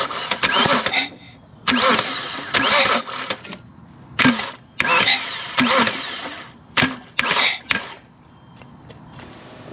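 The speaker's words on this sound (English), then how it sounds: "then you can bump the engine over" A BMW 335i engine is bumped over by the starter, giving repeated cranking bursts of a second or so with short pauses between them, loud and close.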